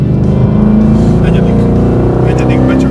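Ford Mustang Boss 302 engine pulling hard through the gears, a loud, close, steady in-cabin roar under someone talking over it.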